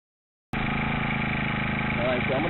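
A Honda 35cc four-stroke gas engine mounted on a kayak starts abruptly and runs loud and steady nearby, a buzzing drone with a faint change in pitch toward the end.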